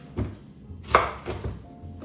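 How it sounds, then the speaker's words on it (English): A knife chops a diced onion finely on a cutting board, a few distinct close knocks spaced unevenly, with quiet pauses between strikes and no talking. "I like to give it another chop just because I think that it should be chopped very finely"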